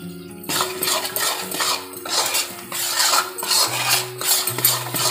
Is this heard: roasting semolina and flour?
yes